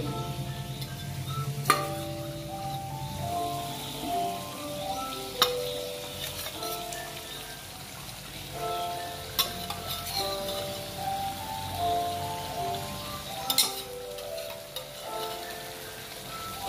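Eggs fry and get stirred through a thick tomato masala curry, giving a steady close sizzle with repeated spoon scrapes and clinks against the pan, and a few sharper knocks.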